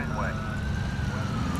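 An ambulance siren in the video game GTA IV wails steadily over low engine rumble for under two seconds, loud and close.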